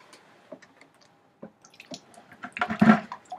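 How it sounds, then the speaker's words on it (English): Water drips from a drinking water container onto a stone during rotary-tool drilling, giving sparse soft drips and squishes that thicken into a wetter splashing burst near the end. "I'm using a drinking water container to drip on my stone."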